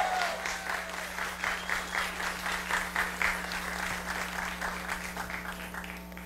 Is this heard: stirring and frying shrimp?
no